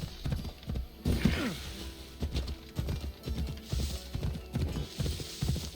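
Horse hooves clip-clopping at a steady trot in Assassin's Creed Odyssey, a regular close rhythm of thuds with some mechanical clinks, no talk.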